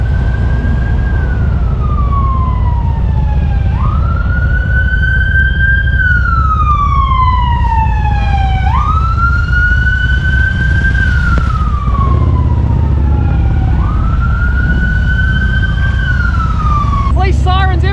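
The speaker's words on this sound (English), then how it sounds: "Police sirens everywhere." Police sirens wail in repeated rising and falling sweeps, loud and continuous over a steady rumble of traffic or engine noise.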